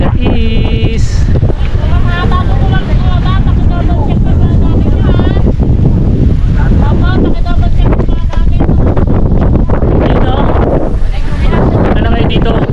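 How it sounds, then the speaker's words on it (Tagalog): Strong wind buffets the microphone in a constant low roar at a high scenic viewpoint in Dingalan, while several people talk loudly over it throughout. "malakas yung hangin"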